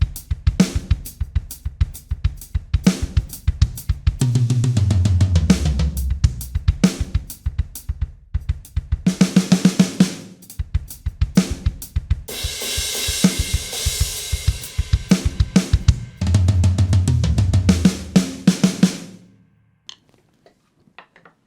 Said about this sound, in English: what you're actually going to be hearing is this drum kit plugin